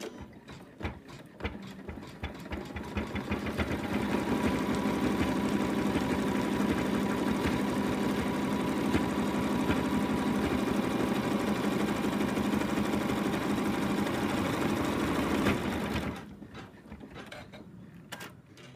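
An embroidery machine stitches the next colour of an in-the-hoop lamb design on fabric, a steady mechanical whirring and rapid needle patter that builds up, runs evenly and loudly for a long stretch, then winds down near the end.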